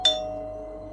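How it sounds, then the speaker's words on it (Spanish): A house doorbell rings once, with a bright chime strike at the start whose tone lingers and slowly fades in a quiet room. "se escucha el timbre de la casa"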